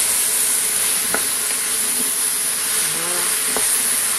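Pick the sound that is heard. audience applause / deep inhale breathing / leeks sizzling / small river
leeks sizzling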